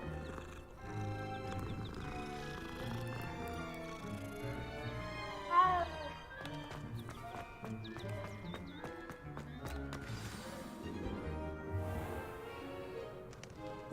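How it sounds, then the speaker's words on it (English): A cat meows in the video game Hogwarts Legacy over a steady bed of game music and ambience, with the meows blending into the continuous sound. "Oh, it's a pretty kitty."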